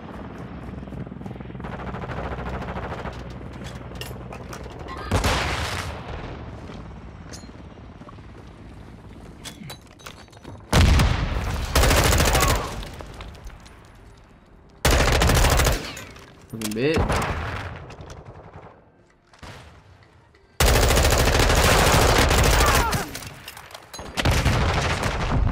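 Automatic M4 rifle fire in the Modern Warfare 2 beta video game, loud close bursts of rapid shots arriving in several clusters over a steady background of game noise and explosions.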